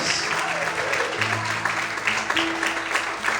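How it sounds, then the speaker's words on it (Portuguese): A church congregation at a Portuguese-language service claps vigorously and continuously, with faint sustained tones and murmured voices running under the applause. "Quantos podem aplaudir e exaltar a Deus bem forte?"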